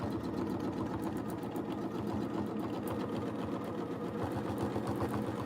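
A domestic sewing machine without a stitch regulator runs steadily during free motion quilting, its needle pounding in a fast, even rhythm close by with no talk over it.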